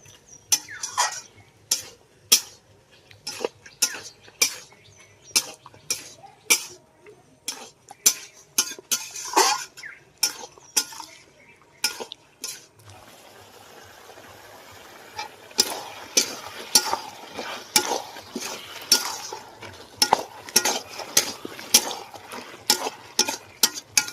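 Bottle gourd curry with leaves being stirred in a pan, a steady run of sharp spoon scrapes and clinks against the metal at close range, with a softer sizzle filling in behind the strokes partway through.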